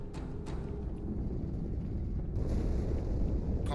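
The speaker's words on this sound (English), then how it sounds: "Die Explosion kam aus dem Innern der Athen, genau wie bei der Malta." A large explosion aboard a ship in a Halo 2 cutscene, a deep, sustained rumbling roar filling the low end for several seconds with a swelling burst partway through, no speech.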